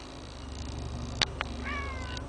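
A house cat lets out one sharp, loud scream-like meow, followed by a shorter cry and then a softer, drawn-out meow, all over a steady low indoor hum.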